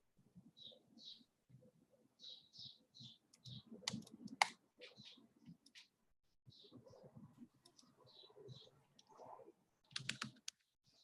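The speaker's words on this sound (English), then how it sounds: "I'm just typing in an article because I don't have the PowerPoint where I can just click on it." Keys clatter on a computer keyboard in short bursts of typing, close and fairly quiet, with a few sharper clicks and pauses between runs.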